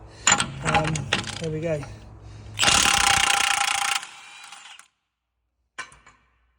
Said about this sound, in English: now what I'm about to do is just undo the centre nut that holds this wheel bearing on and the hub